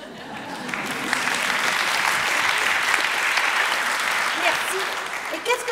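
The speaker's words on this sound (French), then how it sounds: "c'est un peu court comme applaudissement" A steady round of audience applause fills the hall for several seconds, dense and continuous at moderate loudness, tapering toward the end, with a voice speaking faintly over it.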